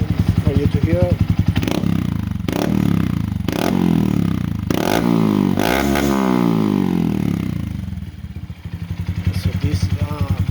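A 2022 Honda Monkey fitted with a Yoshimura RS3 exhaust revs loudly up close, its small single-cylinder engine blipping in repeated sharp bursts over a steady burbling idle that settles down toward the end.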